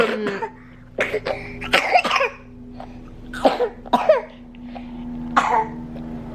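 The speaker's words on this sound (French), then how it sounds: "Il tousse encore pas mal." A man coughs in a series of short, harsh bursts, some in quick pairs, close by over a low steady background hum.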